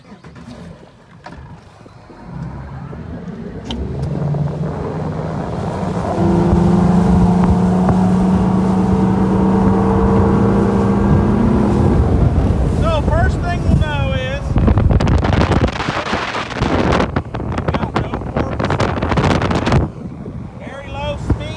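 A 2020 Skeeter FXR bass boat runs on a test drive, its outboard engine rising to a loud, steady roar with heavy wind buffeting the microphone throughout.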